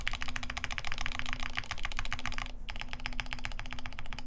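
Fast, steady typing on a mechanical keyboard's shift keys up close, a continuous stream of crisp clacks with a brief pause partway through.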